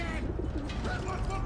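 A pigeon coos in Battlefield 1, several soft low warbling calls close by over a dense game-sound backdrop.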